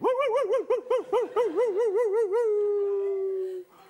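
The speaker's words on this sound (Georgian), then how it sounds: "ძაღლები ყეფენ." A dog howls in a long, warbling, wavering cry that holds for about three and a half seconds and then fades out. The sound is close and loud, with no talking.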